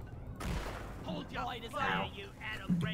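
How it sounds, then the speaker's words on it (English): A flare gun fires in the video game Deep Rock Galactic, a sharp burst followed by a hissing whoosh, then players chatter over the game sounds. "I didn't know the flare gun did damage."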